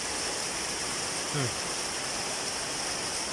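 Heavy rain pouring down in a broad, steady hiss, with a brief voice-like sound rising over it partway through.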